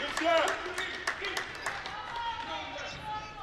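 A crowd at a girls' high school basketball city tournament game reacts to a made free throw: mixed voices cheer and call out together, loudest at the start, then settle into a steady murmur.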